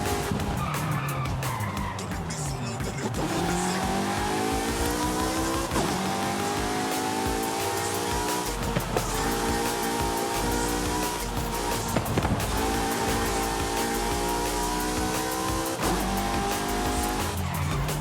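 Race cars in Forza Horizon 5, including a Ford GT, roar continuously with engines revving up and down through gear changes and tires squealing through corners, loud and sustained.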